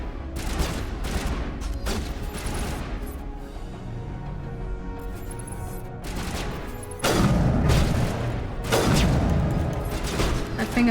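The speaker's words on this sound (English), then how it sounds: "And for a grenade. There, that's a grenade." Gunfire and a grenade blast ring out in Mass Effect combat, with several sharp bursts of shots and thuds, then a louder explosive boom near the end amid ongoing battle noise.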